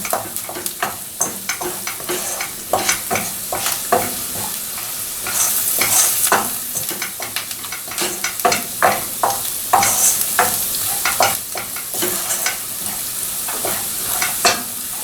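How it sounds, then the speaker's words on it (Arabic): Chermoula with garlic frying in a pan while being stirred steadily, a constant loud sizzle broken by repeated scraping strokes of a spoon, close up and without talk. "ملي نكونوا كنشحروا هاد الشريميله نحركوها باش ما تحرقش لينا او ما تلصقش"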